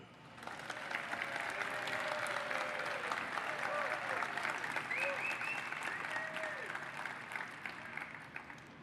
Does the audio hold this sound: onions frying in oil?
no